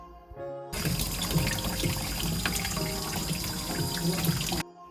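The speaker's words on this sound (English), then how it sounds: "Once you've trimmed them, rinse them." Tap water gushes steadily over trimmed gem lettuce heads being rinsed in a sink, starting abruptly and cutting off just as sharply after about four seconds, close and fairly loud with no voices.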